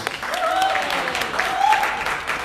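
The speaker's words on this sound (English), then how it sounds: "Can we give them all a round of applause?" An audience at a concert in Dubai gives a round of applause: a sustained wash of clapping and crowd noise, moderately loud, with brief tonal sounds rising above it.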